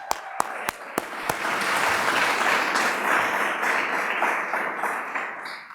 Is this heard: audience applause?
yes